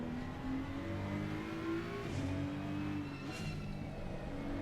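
A GT3 race car engine in Assetto Corsa Competizione at the Hungaroring wails steadily, its pitch rising and falling as it revs through gears; the engine sounds alone, with no talking.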